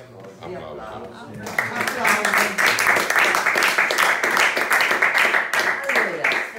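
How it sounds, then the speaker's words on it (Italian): A festival-evening audience at an outdoor courtyard event bursts into applause after a brief spoken greeting, sustained rapid clapping from a modest crowd holding steady to the end. "Applausi. Applausi."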